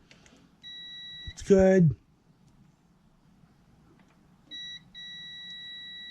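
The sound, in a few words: multimeter continuity test beep on scooter stator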